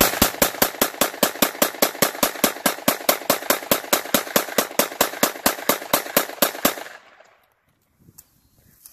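A Glock 19 pistol fires a long, evenly spaced string of rapid shots, roughly thirty sharp loud reports in quick succession, then stops abruptly, leaving faint background noise.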